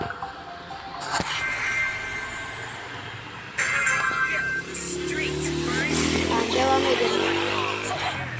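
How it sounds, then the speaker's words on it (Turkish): Cars pass on the street outside a shop, heard from indoors as a continuous rumbling traffic wash with a few louder swells as vehicles go by. "birazcık fazla ses geliyor çünkü dükkandayım dükkanda böyle arabalar geçiyor"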